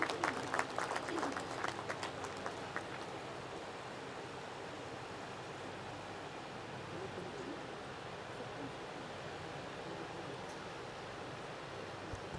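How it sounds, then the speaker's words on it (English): A large audience claps at a 2023 university convocation ceremony. The applause is a dense, even wash of many hands, distant and soft, holding steady for about twelve seconds. "A huge round of applause once again, please."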